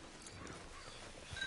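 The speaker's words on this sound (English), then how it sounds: "Get on the horse there." A horse's hooves clip-clop in a Red Dead Redemption 2 online game scene, quiet, even walking steps under a low ambient background.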